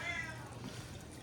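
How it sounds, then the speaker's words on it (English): A cat gives a short meow up close, quiet and over faint background noise. "My goodness, this freaking cat."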